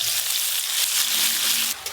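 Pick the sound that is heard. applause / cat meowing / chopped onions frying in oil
chopped onions frying in oil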